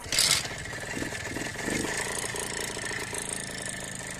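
A homemade tractor powered by a Minsk motorcycle engine sputters into life with a brief burst, then settles into a steady, close mid-pitched idle, with no talking.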